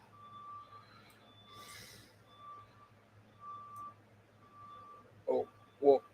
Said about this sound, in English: Oh, the garbage truck is here.